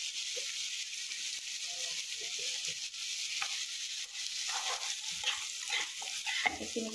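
Jackfruit seeds fry in a pan for an Assamese egg curry, with a steady close sizzle and the occasional rattle and scrape of stirring, and no voices.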